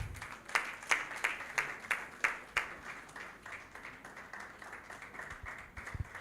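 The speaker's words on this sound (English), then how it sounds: "Please, a big round of applause." Audience applause at the groundbreaking ceremony for the ETI building: a burst of sharp, rhythmic claps up close that softens after a few seconds into a looser, fading patter of crowd noise.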